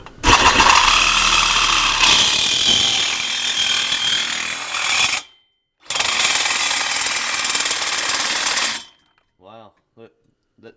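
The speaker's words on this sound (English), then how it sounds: "I'm going to show you how to use this handy dandy Sawzall if you don't already know how" A Sawzall reciprocating saw, used one-handed, buzzes loud and close in a harsh rapid chatter, stops briefly, then cuts again before falling quiet, followed by a few faint sounds.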